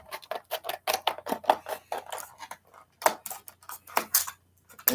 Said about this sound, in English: Time to open the mini GT cars with the scissors.